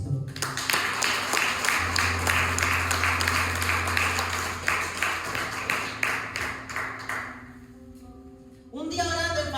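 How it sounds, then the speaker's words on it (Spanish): Audience at a church service clapping in a steady, rhythmic beat over sustained musical tones, the applause fading away before the music swells again at the end. "Brinde el aplauso a Cristo."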